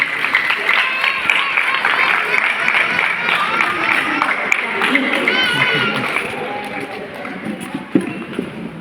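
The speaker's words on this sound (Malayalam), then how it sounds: "ഒരു കൈയടി കൊടുക്കുക." An audience at a wedding ceremony gives a sustained round of applause, a dense steady clapping that carries through the whole stretch and thins toward the end, with a voice talking over it.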